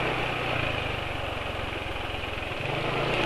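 A motorcycle engine idles steadily just after an oil change with Petronas Sprinta 4T 10W40 semi-synthetic oil, a close, even, low throb running continuously with no talk.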